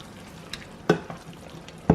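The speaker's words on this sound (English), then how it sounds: "So just going to give it a good stir in, make sure everything is coated" Meat and passata being stirred in a pan, a quiet simmering sizzle broken by a few soft scraping knocks of the spoon, the two loudest toward the middle and end.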